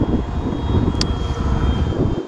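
An FMS Pitts V2 1400mm radio-controlled biplane flies overhead on a sunny, windy day, its electric motor giving a steady loud whir with a continuous airy drone throughout.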